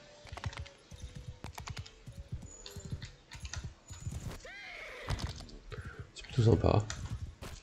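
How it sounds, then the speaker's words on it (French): Horse hooves in the video game Mount and Blade 2, a rapid clip-clop that runs steadily as a horse travels through a village. Someone speaks briefly over it and a horse whinnies near the end. "Mon cheval est un peu lent par contre."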